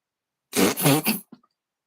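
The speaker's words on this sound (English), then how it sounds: "Sorry, I had to blow my nose." A short, forceful nose blow in a few quick bursts, close and loud against silence, ending with a faint sniff.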